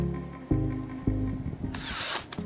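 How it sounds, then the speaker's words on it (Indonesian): A Mailtank SH 216 cordless drill drives screws into wood in close, loud whirring bursts, each ending in a ratcheting clutch chatter from the torque stopper. "Untuk penyekrupan lancar jaya, tidak ada masalah."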